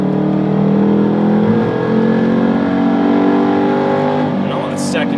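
A Ford Mustang's engine pulls steadily uphill through a set of turns, a loud, continuous drone with a rising pitch as it holds a gear, close and dominant throughout, with no pauses.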